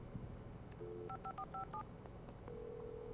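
Touch-tone keypad beeps from a telephone being dialed in Alan Wake Remastered, a quick series of short tones followed by a steady ringing tone, quiet and alone.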